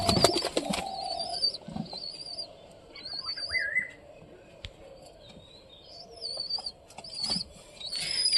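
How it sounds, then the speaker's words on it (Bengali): Pigeons and doves coo and call in a loft while a burst of wing flapping opens the scene, followed by scattered softer flutters and chirps at close range. "সব পায়রা এখন মোটামুটি বর্তমানে ঠিকঠাকই আছে"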